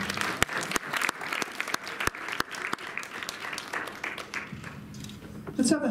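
Audience applause fills a high school auditorium during a stage hypnosis show, steady crowd clapping with sharp individual claps running throughout, easing slightly near the end before a brief burst of louder noise.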